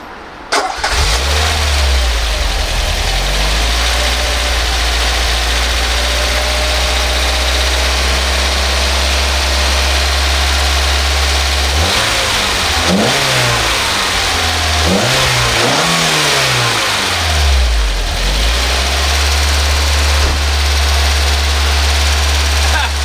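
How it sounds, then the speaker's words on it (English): A Peugeot 205 1.6 GTI engine starts, settles into a steady, loud idle, then is revved several times with rising and falling sweeps before returning to idle; up close and without talk. "The 205 GTI, it's running well."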